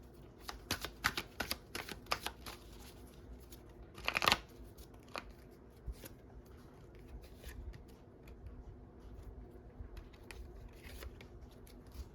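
Tarot cards being shuffled and drawn, a run of soft crisp flicks and taps with one louder burst of riffling, close and quiet, no talking.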